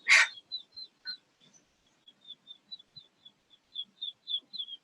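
A hen and turkeys calling from different parts of a farm lawn give one sharp loud cry followed by a string of thin, high chirps that repeat irregularly. No speech is heard.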